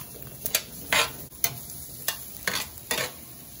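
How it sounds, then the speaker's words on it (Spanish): Tomatillos are set on a hot comal for salsa and roast with a soft sizzle, broken by a series of sharp taps and knocks at irregular intervals, close and fairly quiet. "Aquí mismo en este comal voy a poner tomatillo."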